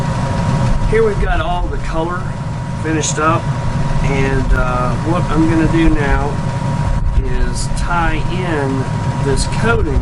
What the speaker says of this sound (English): We got fans and air conditioner going.